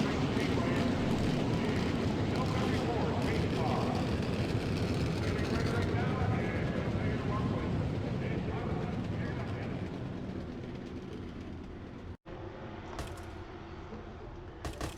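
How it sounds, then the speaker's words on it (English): Race truck engines rumble together as the field rolls around the Pensacola oval on the pace lap, a dense, loud, continuous roar that eases off slightly toward the end. "So the command has been given to fire the engines here as the pace truck leads the field around for the pace lap."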